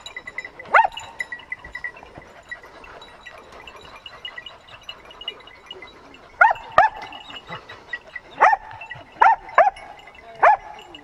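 Hunting dogs on a wild boar hunt bark in sharp, scattered bursts, one early yelp and then a rapid cluster of barks in the second half, fairly close over a quiet outdoor background.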